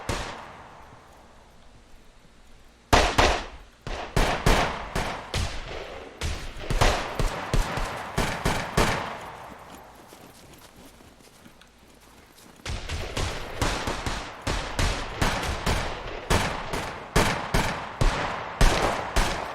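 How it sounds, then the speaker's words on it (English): Rapid bursts of gunfire crackle throughout a multiplayer session of the survival game SCUM, some shots quick and scattered, others in dense volleys, with a quieter lull in the middle before the shooting resumes loudly. "People shooting everywhere."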